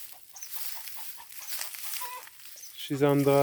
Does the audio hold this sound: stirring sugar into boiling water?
no